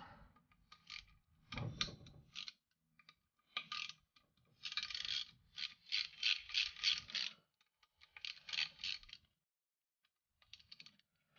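A ratchet wrench removes the oil filter cover bolts on a Yamaha YFZ450R ATV, making close, bursty clicking runs of rapid pawl clicks with short pauses between them and a few metallic knocks, with no talking.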